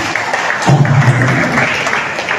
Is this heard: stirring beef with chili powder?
no